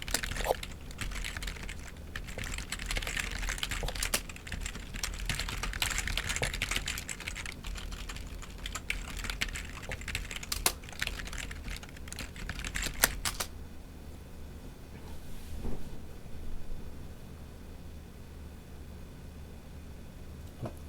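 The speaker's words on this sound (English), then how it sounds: "Oh, here I'll type in chat." Rapid, steady typing on a computer keyboard during an online game coaching session, clicking continuously for about thirteen seconds and then stopping, leaving only faint room noise.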